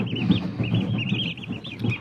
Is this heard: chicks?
yes